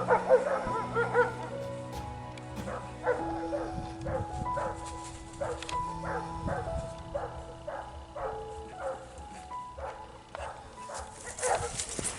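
Neighbor dogs running through a field bark repeatedly at some distance in an outdoor rural setting, a steady string of sharp barks and yips across the whole stretch.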